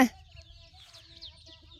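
A few chickens cluck softly and intermittently nearby in a morning farmyard, low and fairly faint after a brief loud knock at the start.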